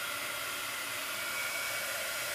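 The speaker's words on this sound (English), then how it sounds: "But I like to hit it with a heat gun" A heat gun blows a steady, loud whoosh of hot air without pause while drying and scrunching Graphic 45 cardstock paper flowers, with no talking.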